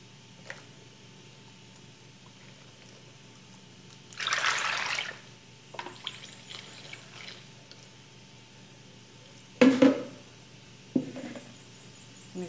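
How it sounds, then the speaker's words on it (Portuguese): A liquid salt soap mixture is poured into a 3-liter container in two short bursts of splashing and gurgling, separated by quieter knocks and drips. "eu tenho outro vasilhame que cabe 3 litros e eu vou derramar"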